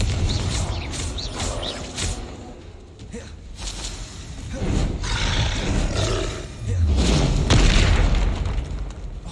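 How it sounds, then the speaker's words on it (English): Confringo fire spell explosions in Hogwarts Legacy burst out as a continuous roaring, booming rumble with repeated blasts, loud and dense throughout. "Confringo."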